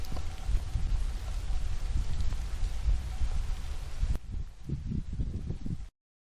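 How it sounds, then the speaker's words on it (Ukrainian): Rain falls outdoors along a riverside embankment, a steady diffuse patter and hiss with low rumble, then the sound thins to softer scattered patter before cutting off. "У нас на вулиці глупашить дощ."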